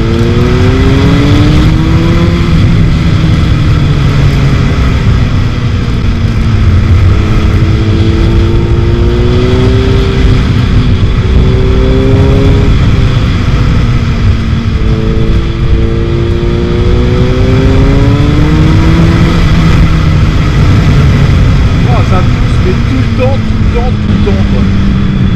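A Suzuki B-King 1340 motorcycle engine accelerates with a loud, steady roar whose pitch climbs and dips through several throttle pulls, heard from the rider's position under wind rush, with someone talking over it.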